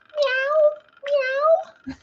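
A person imitates a kitten's meow twice in a high, drawn-out tone, followed by a short sound at the end.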